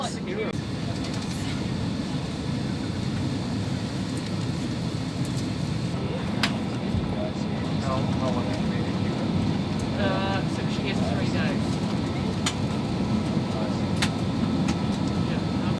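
Steady, broadband engine and air roar fills the cabin of an Air New Zealand A320 airliner climbing after departure, with a voice speaking faintly over the constant drone.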